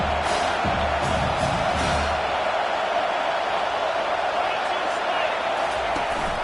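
A large crowd roars steadily at a college football game, a dense wash of cheering and noise that fills the whole stretch, with play-by-play commentary faintly under it.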